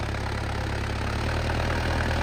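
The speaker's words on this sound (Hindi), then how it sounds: "अब देखो क्या खिंचाई कर रहा है दोस्तों, मीडियम के तीसरे में चल रहा है ट्रैक्टर।" 4x4 tractor engine in third gear of the medium range pulling a cultivator through a field, a loud, steady, low mechanical drone that holds constant throughout with no talk.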